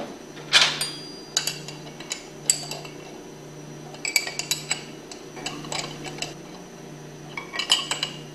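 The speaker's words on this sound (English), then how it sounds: "tighten them down with your 1/2 inch wrench." Metal clinks and taps from a 1/2 inch wrench working the four flange bolts on a Hypro centrifugal pump, scattered short strikes at close range over a low steady hum, no talking.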